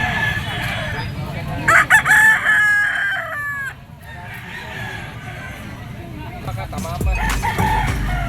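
White Kelso Firebird gamefowl roosters, F1 line, crowing loudly and close, with a couple of drawn-out cock-a-doodle-doo calls overlapping among clucks and farmyard background noise.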